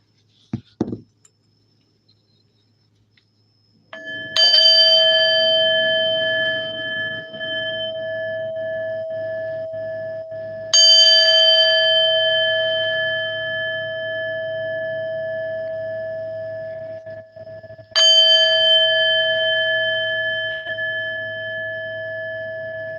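A meditation chime rings out three times at steady intervals, each strike bright and sustained, its tone slowly decaying into a long shimmering ring, after a few faint knocks at the start.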